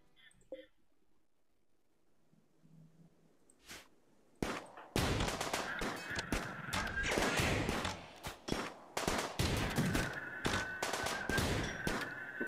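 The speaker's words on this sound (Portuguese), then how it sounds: "Só porque eu falei, ele deu um tiro." Gunfire in the colony-building video game RimWorld, with mechanoid enemies in combat: after a quiet stretch, loud rapid bursts of shots and sharp cracks repeat densely for about eight seconds.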